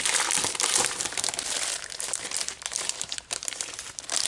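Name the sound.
crinkling of 12 by 12 scrapbook papers and sticker sheet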